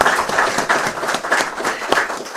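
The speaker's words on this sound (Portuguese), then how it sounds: "Palmas," Audience clapping on a talk show: loud, close hand claps with a loosely pulsing rhythm, sustained without speech.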